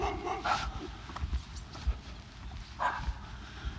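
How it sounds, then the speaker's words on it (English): Several dogs barking in Central Texas yards during a neighborhood walk, a few sharp barks spaced across the clip at moderate distance over outdoor ambience. "Got a few dogs, not too many."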